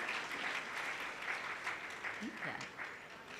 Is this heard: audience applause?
yes